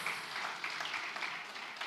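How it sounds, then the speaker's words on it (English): Conference audience applause at an agriculture event, a brief dense wash of steady clapping from a seated crowd, fairly distant and even with no talk. "Please give him a round of applause."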